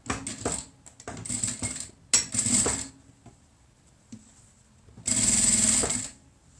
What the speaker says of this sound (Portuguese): Quando eu fizer essa nova costura com pé de máquina, eu vou estar escondendo aquela costura lá do outro lado